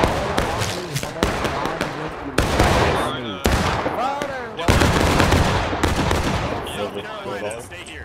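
Musket volleys in the Civil War game War of Rights: repeated loud sharp cracks spaced a second or so apart, each followed by a short decay, with distant shots and shouting voices in between.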